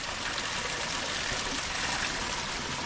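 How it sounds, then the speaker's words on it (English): A small waterfall in a canyon in the San Bernardino mountains gives a steady, soft rush of falling water, even and continuous, heard alone without voices. "I'll take a quick break at this quick waterfall."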